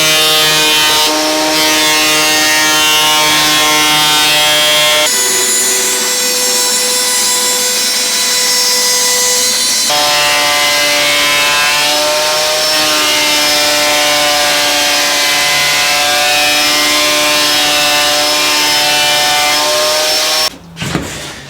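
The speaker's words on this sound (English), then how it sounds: "I'm gonna basically cut a piece very similar to this out on the bandsaw." A bandsaw cuts a piece of timber for a window sill, a loud steady whine rich in ringing tones that runs continuously for about twenty seconds, shifting pitch as the cut changes, then stops abruptly.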